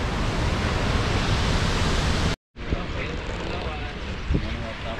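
Tuasan Falls on Camiguin pours with a dense, loud, steady rush of water. Voices talk over the roar, which drops out briefly partway through.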